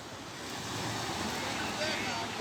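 Sea waves roll in at Kargil Beach near Bakkhali as a steady, broad wash of surf blended with gusty wind noise on the microphone, continuous and moderately loud for a brief moment.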